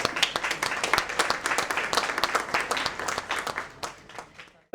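Loud audience applause at an award felicitation ceremony: dense, continuous clapping from a crowd that holds steady for several seconds and then thins out toward the end.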